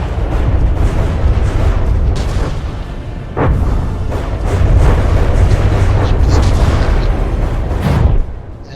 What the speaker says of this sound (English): here comes that deadly volley of missiles